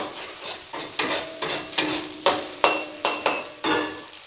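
Egg is stir-fried in a pan for mixed vegetable noodles, with a spatula scraping and tossing in a quick series of sharp strokes over a light sizzle, close and fairly loud with no talking.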